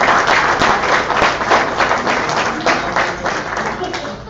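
Audience applause at a coffee company presentation for people who earned BMW car bonuses, steady loud clapping from a large crowd sustained throughout.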